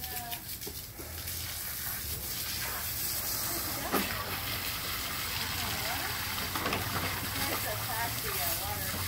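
Water from a hose runs steadily over a puppy during a bath, a close, continuous hiss and splash. People talk over it, and there are a few brief knocks.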